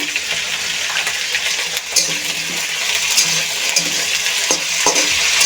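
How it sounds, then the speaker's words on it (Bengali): Cauliflower florets frying in hot mustard oil with a pinch of salt, a steady close sizzle broken by occasional clinks and scraping stirs, with no voices. "এখন দিয়ে দেব ফুলকপিগুলো, একটু ভেজে নেব"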